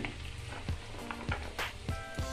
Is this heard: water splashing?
no